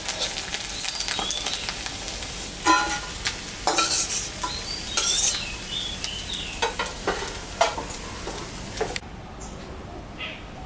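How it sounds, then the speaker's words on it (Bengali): Fish fries in a pan as more oil goes in and panch phoron spices are tempered, a steady close sizzle broken by sharp stirring scrapes, then fading quiet at the end. "মাছ ভাজা তেলের উপরে আর একটু তেল দিলাম। পাঁচফোড়ন সম্বরা দিলাম।"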